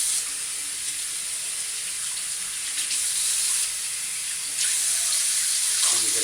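Warm tap water runs steadily over a shaving brush at a sink, a continuous bright hiss with small splashy surges as the brush moves under the stream. No talking.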